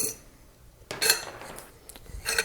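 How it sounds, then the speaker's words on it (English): Sharp metallic clinks of metal striking metal, a few bright taps in close succession, then a quieter clatter near the end, as a Marlin rifle's magazine tube parts are taken apart. No voices. "gotta love that metal on metal sound"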